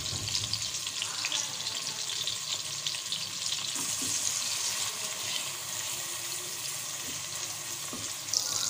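Ginger garlic paste sizzles and fries steadily in a pan with chopped tomato, a continuous bright crackle with occasional stirring clinks, no talk over it.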